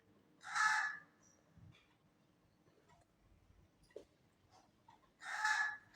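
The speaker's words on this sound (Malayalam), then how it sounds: "കാക്ക കൂടിയിട്ട് തുടങ്ങി" Two loud, harsh crow caws, one near the start and one near the end, separated by a quiet stretch with faint background noise.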